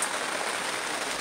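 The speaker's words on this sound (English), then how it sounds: "so we'll see how long this rain lasts" Steady hiss of rain falling outdoors, an even, continuous wash of drops with no pauses and no other sounds.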